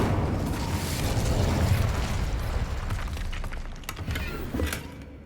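The Incendio fire spell in Hogwarts Legacy bursts with a loud whooshing flare, followed by crackling pops and sharp magical cracks as it fades.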